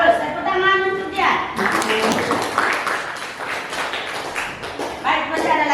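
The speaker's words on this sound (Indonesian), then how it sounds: "tepuk tangan untuk dia" A ninth-grade civics class claps for a student, a few seconds of scattered classroom applause between stretches of a teacher talking.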